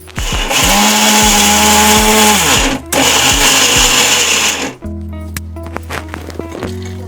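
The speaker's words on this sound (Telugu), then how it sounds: "అది మెత్ మెత్తగా అయ్యే వరకు వేసి మిక్సీ పట్టి" A mixer grinder whirs loudly in several bursts grinding cooled spice ingredients for a chilli masala curry, stopping briefly between runs, then winds down into clattering and quieter handling sounds.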